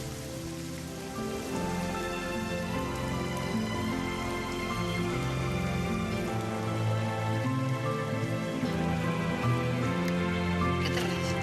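Rain falls steadily, a continuous patter on surfaces mixed with a layered background score, with no voices.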